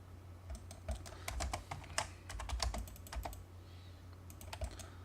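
Someone types a short AutoCAD command on a computer keyboard: a quiet run of crisp key clicks in uneven bursts, close by, with no talking.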